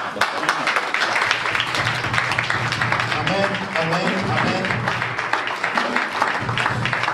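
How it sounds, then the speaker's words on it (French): A congregation at a wedding blessing claps steadily in a crowded room, the applause running on for several seconds while voices call out over it. "Applaudissez le Seigneur pour vous."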